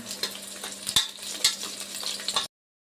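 Vegetable pulao with curry leaves stirred in a frying pan, a close sizzle with a few distinct scraping strokes of a spoon before it cuts off abruptly.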